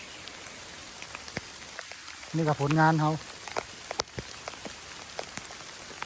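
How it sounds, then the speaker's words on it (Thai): Steady rain falls outdoors during a bamboo-shoot foraging trip, a continuous hiss of drops with scattered louder taps, while a voice speaks briefly partway through. "ฝนตกแห้งเปียกละ"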